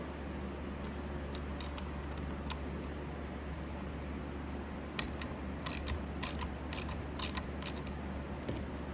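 Handlebar clamp bolts on a Honda Navi are tightened with a ratchet, its quick clicking bursts coming in short runs over a low steady background hum, close by.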